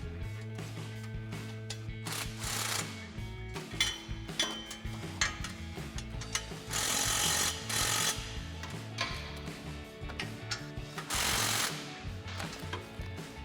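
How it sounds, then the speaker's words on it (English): Bolts on a 2022-2023 Toyota Tundra's Carven single exhaust system are tightened with a 14mm swivel socket on an extension, giving a run of close metallic clicks, ratcheting and clanks with a few louder bursts. "Now we're going to tighten these down with a 14mm socket, a swivel socket, and an extension."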